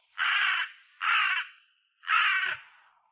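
Crows in a park, giving three loud, harsh caws evenly spaced and close by, with quiet gaps between the calls.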